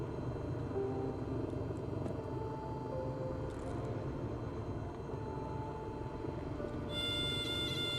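A simulated Cessna 172SP engine droning at low RPM in a flight simulator, a steady low hum with faint tonal lines, with a brief higher whine near the end.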